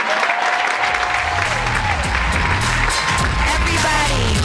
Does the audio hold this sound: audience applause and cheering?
yes